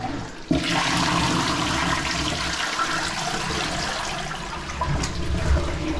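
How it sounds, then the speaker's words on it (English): A toilet on a blocked drain flushes loudly and steadily, a close rushing gush of water that keeps going for several seconds with no talk over it. "let me just flush this one"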